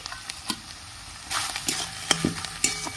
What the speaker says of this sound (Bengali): ভালো করে সব কষিয়ে নেবো